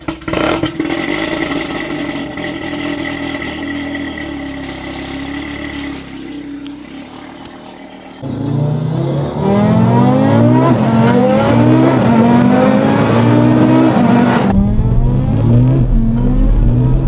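A 1000 HP Audi RS3 street car idles, then revs hard and accelerates through repeated gear changes, its engine note climbing and dropping loud and close with no talk.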